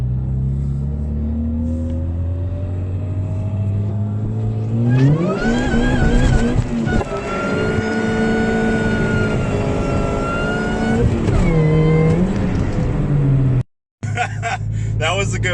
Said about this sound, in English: That was a good pull on camera, so we completely roasted first, obviously.